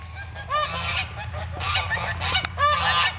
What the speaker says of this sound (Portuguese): Todos os patos do Abraão no gelo